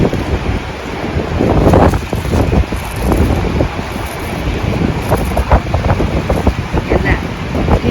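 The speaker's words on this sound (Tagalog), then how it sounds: "Dito, mas kita ang hangin. Naririnig niyo po, no?" Strong typhoon wind buffets the microphone in loud, continuous gusts with rushing, roaring noise that rises and falls throughout, close and harsh, with no clear voices over it.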